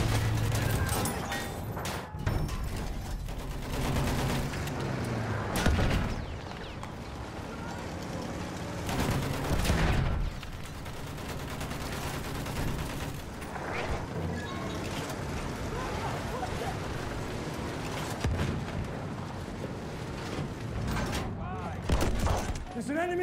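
Enemy machine gun fire in a First World War video game battle on the River Somme, around a Mark landship tank. Scattered gunfire bursts and sharp impacts crack over a constant mechanical rumble, with voices faintly present.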